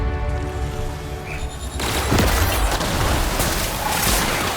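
Gunfire in The Outer Worlds video game, dense booming shots and blasts erupting after a quieter musical opening, continuing loud and steady to the end with no talking.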